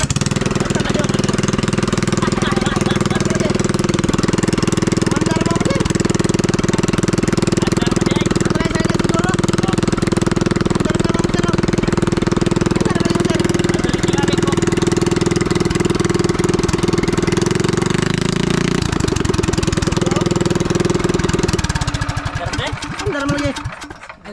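A recently repaired engine that had been leaking gasoline runs and idles steadily at close range, with a loud, constant low rumble, before it cuts out near the end.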